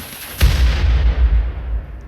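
A defensive turret blows up during a fight with wargs in Rimworld, a single sharp blast followed by a heavy, rumbling low-end roar that lingers loudly for over a second and a half.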